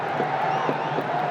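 A cricket crowd at the BPL 2025 final between Chittagong Kings and Fortune Barishal cheers a six hit into the stands, a steady broad roar of many voices heard at a distance.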